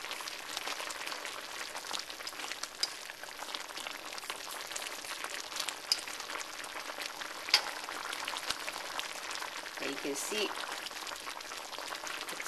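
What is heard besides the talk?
sauce for beef chow mein bubbling in pan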